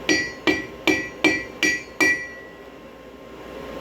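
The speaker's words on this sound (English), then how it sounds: "I use a wooden hammer, wooden mallet. It doesn't mar up the steel." A wooden mallet strikes a steel blade six times in an even rhythm to straighten it, each close, loud blow ringing briefly with a metallic tone before the final quiet stretch.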